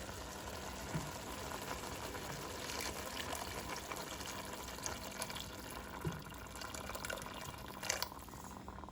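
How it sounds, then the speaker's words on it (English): Water pours steadily into a pot with a continuous soft splashing, fairly quiet, with a few small clinks along the way. "Now we're going to add some water."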